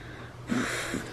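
Brief close-up sniffing: a couple of quick, breathy snorts through the nose over a quiet, faintly noisy background.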